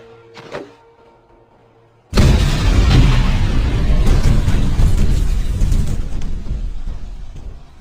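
In the film K.G.F. Chapter 2, after a quiet moment with a faint tap, a sudden loud explosion bursts out, followed by a long rumbling roar that slowly fades.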